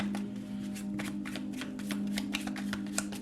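Tarot cards shuffled by hand in a steady riffling rhythm, close and continuous over a constant low hum.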